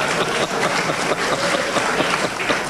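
Sustained audience applause at a 1999 televised debate on British moral decline, a dense, even wash of clapping filling the hall throughout with no pauses.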